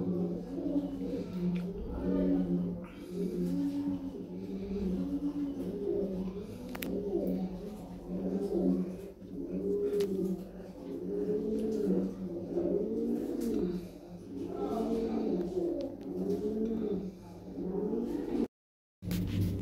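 Lahori pigeons cooing in a steady, repeated rhythm of soft rolling coos, close and moderately loud, continuing with little pause across the whole stretch.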